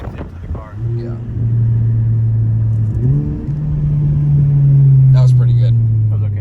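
A Honda Civic Type R rumbles steadily from inside the cabin while driving, its engine tone rising and shifting through gears, with faint voices now and then.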